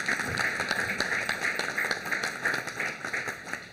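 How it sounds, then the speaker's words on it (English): A crowd at a school event applauds, a steady moderate wash of clapping heard from some distance with a few sharper individual claps. "let's give this school a tremendous round of applause."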